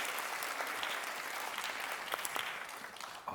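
A stage audience gives big applause to welcome a curator at an arts presentation, sustained mid-distance clapping from many hands with a few sharper claps standing out.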